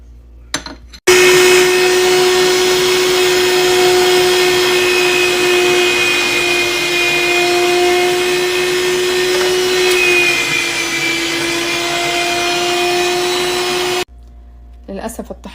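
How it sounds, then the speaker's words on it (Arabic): Electric food grinder running steadily for about thirteen seconds, mincing a falafel mixture of fava beans and garlic with a loud, even motor whine. The grinder has a worn, poor quality, and brief handling sounds come before and after. "للأسف الطحانة اللي عندي شوية تعيسة"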